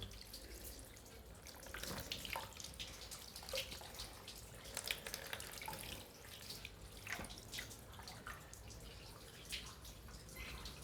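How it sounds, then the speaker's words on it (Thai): Tap water runs and splashes irregularly while pork intestines are rinsed clean, a faint, uneven gurgle with drips and small bursts over about eleven seconds. "น้ำไหลออกครับ"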